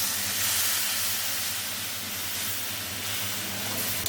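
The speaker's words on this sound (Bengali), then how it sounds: "কষানো হয়ে গেছে, দিয়ে দেবো এই যে গরম জল," Hot water pours into a cooking pot of fish-head potato curry, making a loud, steady hiss and sizzle of steam close by that runs unbroken throughout, with no voices.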